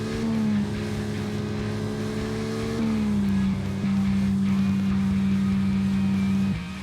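Car engine in the NovaLife driving game, a steady synthetic hum holding pitch with a couple of small stepwise shifts as the car cruises along, no voices.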